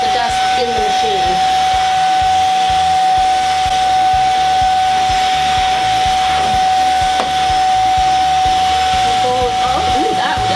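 An Inse S6 cordless stick vacuum runs nonstop at close range, a loud steady whine with an airy hiss, while a person talks over it.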